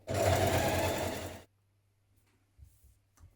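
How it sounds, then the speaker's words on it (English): A sewing machine runs a steady line of ease stitching around a hoodie neckline, a continuous close whir for about a second and a half before stopping, followed by near silence and a few faint handling bumps. "Sew a line of ease stitching around your neckline to stop it from stretching out."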